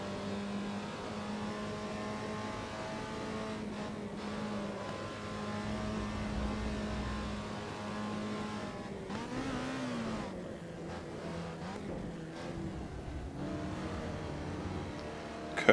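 An Alfa Romeo 125 racing around the Nordschleife in Assetto Corsa, its engine droning steadily and climbing through gear shifts, dropping on lifts and braking, then revving back up, moderately loud with no talk over it.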